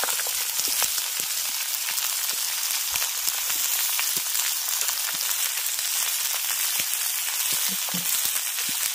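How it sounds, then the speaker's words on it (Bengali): Mixed winter vegetables frying in hot oil with tempering spices, giving a steady, dense sizzle that runs the whole time, with faint scattered crackles and no talk. "এবার সবজিগুলোকে ফোড়নের সঙ্গে আগে দুবার একটু ভালো করে এইভাবে ভেজে নেব।"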